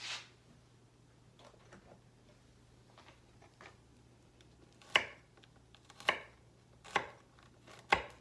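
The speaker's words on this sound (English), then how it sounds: "So now, just mince up your garlic." A knife mincing garlic on a cutting board for homemade vegetable soup, heard as sharp, isolated chops, a faint scattering early, then four loud evenly spaced strikes about a second apart near the end, with a low steady hum underneath.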